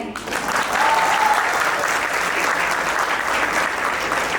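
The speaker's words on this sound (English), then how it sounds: "Can you please clap for me, guys?" Steady, full audience applause at a large creator event, dense and sustained across the whole stretch with faint crowd noise beneath.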